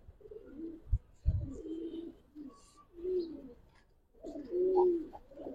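Giribaz pigeons coo in several soft, low throaty bursts separated by short pauses, close but fairly quiet, with a couple of brief knocks of handling noise.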